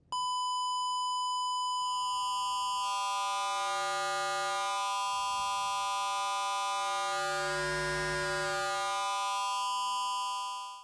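FM synthesizer tones from Ableton Operator oscillators: a steady bright buzzing drone whose harmonics slowly swell and shift as modulation depth rises, with a faint low pulsing underneath, sustained for about ten seconds and then cut off, no talking.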